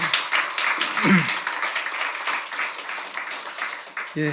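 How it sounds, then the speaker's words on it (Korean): A church congregation applauds a choir steadily for a few seconds during a Sunday service, the clapping continuous and moderately loud, with a voice speaking briefly at the start and near the end. "다시 한번 경의 박수하겠습니다"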